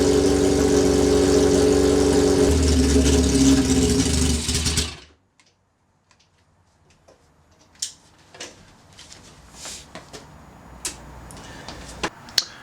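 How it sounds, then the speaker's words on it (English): A cafe racer motorcycle engine idles with a steady, close rumble for several seconds, then cuts out on its own as it runs out of fuel, leaving quiet ticking and scattered small clicks. "So I'm gonna start the bike, let it idle for a minute until it dies on its own."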